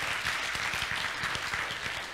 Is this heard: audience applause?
yes